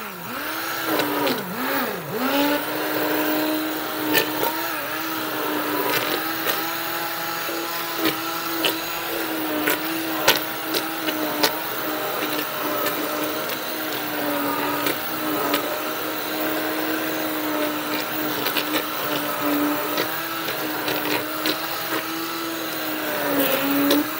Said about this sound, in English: since I got the stick blender out, we'll just blend all these things together